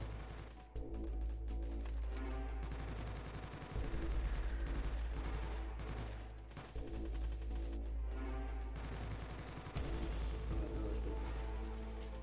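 Sustained gunfire in a Garry's Mod SCP roleplay battle, a dense continuous fusillade of rapid shots with mechanical clatter running throughout, loud and steady with brief dips.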